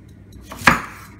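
A single knife chop strikes a cutting board while vegetables for soup, such as sweet potato, are cut into large pieces, one sharp close thud with no talk.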